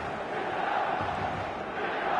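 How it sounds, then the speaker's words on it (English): A packed stadium crowd on match day for a NEPES master league division game roars in a steady, dense wash of noise that holds loud and unbroken throughout. "The stadium is full of noise and energy."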